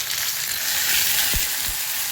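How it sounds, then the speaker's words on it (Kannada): Mustard seeds, cumin, crushed garlic and curry leaves sizzle steadily in a few spoons of hot oil for a fenugreek chutney tempering, a loud continuous crackle with a couple of brief low knocks near the end. "ಎಣ್ಣೆ ಹಾಕೊಂಡು 2-3 ಸ್ಪೂನ್ ಎಣ್ಣೆ ಹಾಕ್ಕೊಂಡು ಸ್ವಲ್ಪ ಸಾಸಿವೆ, ಸ್ವಲ್ಪ ಜೀರಿಗೆ, ಜಜ್ಜಿರೋ ಬೆಳ್ಳುಳ್ಳಿ ಒಂದು 3-4 ಹಾಕ್ಕೊಬೇಕು"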